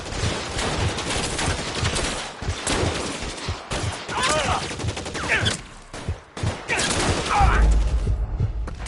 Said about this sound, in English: All units, shots fired.